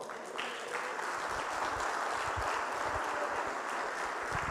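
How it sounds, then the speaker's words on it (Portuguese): Church congregation clapping in praise, a steady, continuous wash of hands from a large crowd heard at moderate distance with no speech over it. "As palmas para o Senhor."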